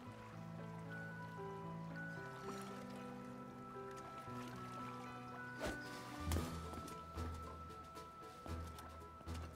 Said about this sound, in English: The water flow from this divine beast.